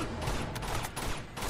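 Dense, sustained gunfire from the Uncharted 2: Among Thieves Remastered video game rattles without a break, a continuous fusillade of overlapping shots and no voices.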